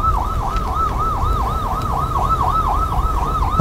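A fire engine siren wails in a steady, rapid up-and-down yelp, loud and continuous over a low rumble of street traffic.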